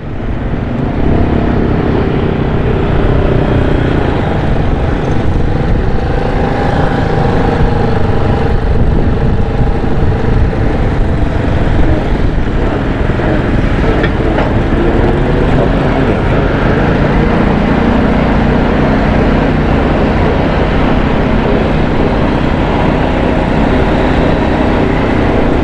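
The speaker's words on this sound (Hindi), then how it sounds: "ये एक्सकवेटर जो मशीन है वो उसको घसीट घसीट के पानी को आगे कर रही है।" An excavator and tractors push floodwater along the swollen Korangi river, producing a loud, unbroken heavy-engine drone mixed with rushing water noise. The drone holds steady for the whole stretch, with no voices over it.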